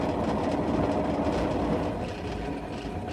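A train passes on railway tracks as a steady, loud rumble with a faint clickety-clack of wheels, holding up throughout and easing off slightly near the end, with no talking.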